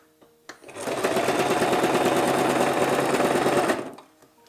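A sewing machine runs steadily for about three seconds, stitching the side seams of a small girl's dress, with a fast, even mechanical chatter that starts and stops cleanly.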